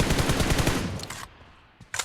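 Rapid automatic M4 rifle fire in PUBG Mobile bursts loudly for over a second, then cuts off, followed by a brief quiet and one more short crack.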